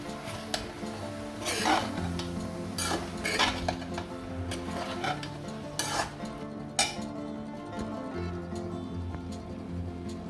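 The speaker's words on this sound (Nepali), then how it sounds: "यो घिरिमलालाई सबै मरमसला राखेर भुटियो," Sponge gourd fries in a pan with spices for a Nepali Teej dish, a spoon scraping and clinking against the pan in irregular strokes over a soft background sizzle, close and moderately quiet.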